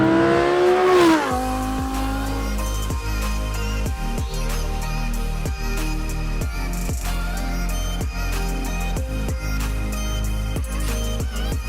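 Tuned Audi R8 with a naturally aspirated 5.2-liter V10 rising in a sharp rev, then driving on with a steady loud engine drone and repeated gear-shift pulses.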